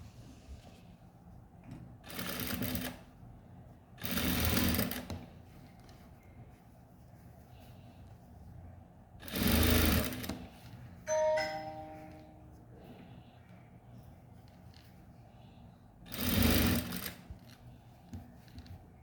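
Sewing machine stitching the joined seams of a blouse, heard in several short, loud bursts of running stitches separated by quiet pauses, with a brief tonal whir between bursts and no talking.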